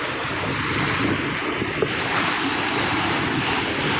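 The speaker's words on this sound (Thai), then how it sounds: "คลื่นแรงมากนะครับ" Constant roar of rough surf and strong wind buffeting the microphone, a dense, unbroken wash of noise at the seashore of Koh Phayam, Ranong, Thailand.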